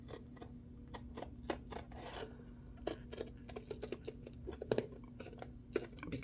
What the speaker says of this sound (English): I'm going to carefully cut this so I don't make a wonky edge